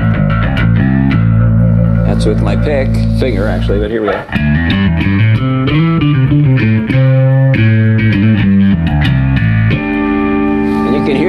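A bass guitar played through an Ashdown LoMenzo Hyperdrive overdrive pedal, plucked by finger, rings out in loud, gritty, harmonic-rich notes and short phrases, with someone briefly speaking at the start.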